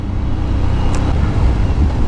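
Aprilia Shiver 900 motorcycle engine on the road, a loud low rumble mixed with wind buffeting, steady for a couple of seconds.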